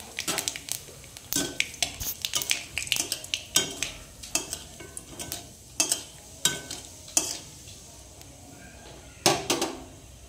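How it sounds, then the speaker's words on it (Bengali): Black cumin seeds and a dried red chili hit hot oil for tempering, a soft crackling sizzle under repeated sharp spatula taps and scrapes against the pan, close and irregular. "তেলটা গরম হয়ে গেছে, এবার ফোড়নে দিয়ে দেবো কালো জিরে আর একটা শুকনো লঙ্কা"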